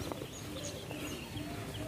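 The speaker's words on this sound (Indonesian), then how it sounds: "Di sini banyak burung darahnya." Birds call in a park, their chirps and coos scattered over steady outdoor background noise, moderately distant and fairly quiet throughout.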